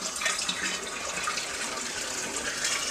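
Hot peach juice being poured from a pan into a bottle while making peach wine, a steady soft liquid stream with a hissy, splashing quality, close and continuous without speech.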